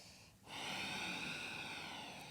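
Steady, sustained breath with a soft oceanic hiss during a power yoga session, close and continuous after a brief quieter moment at the start, with no talking.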